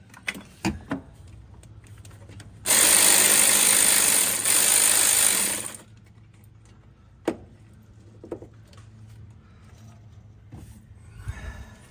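Power tool loosening intake and exhaust manifold bolts on a Jeep 4.0 engine: one loud whirring burst of about three seconds with a brief dip, surrounded by scattered clinks and handling noises.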